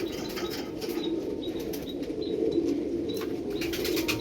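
A pair of Kalanka pigeons flap their wings in a steady, dense fluttering that runs throughout, close by, with faint chirps over it and no talking.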